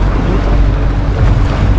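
A motorboat crossing Lake Catemaco in Veracruz, Mexico, gives a steady, loud, close roar blended with rushing water and strong wind buffeting the microphone, unbroken throughout.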